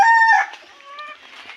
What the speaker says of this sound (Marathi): कोंबडे बघा कसे आहेत